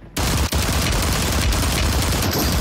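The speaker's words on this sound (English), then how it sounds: "Shoot that shit." Gunfire in the video game Call of Duty: Warzone, a loud, dense stream of rapid shots starting abruptly and continuing without pause.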